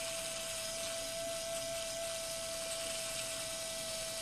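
A modified pedicure wand sands polymer clay with a faint, steady high-pitched whine and a constant low whir throughout, with no speech.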